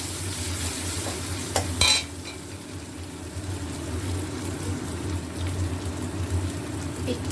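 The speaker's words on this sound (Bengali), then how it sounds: "1 চামচের কম লঙ্কা গুঁড়ো দিয়ে আবার" Spice masala with chilli powder is stir-fried in a pan, giving a continuous close sizzle with scraping spoon strokes and one brief louder clatter early on.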